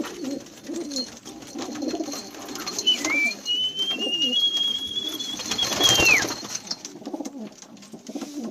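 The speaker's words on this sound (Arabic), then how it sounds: "شباب 30 طير بالعدد، حمامات حلوين وقوايا وعلى الأول" Syrian pigeons in a flock of about thirty birds coo in low, repeated throaty bursts at close range, while a thin whistling call glides across the middle and slides down near the end.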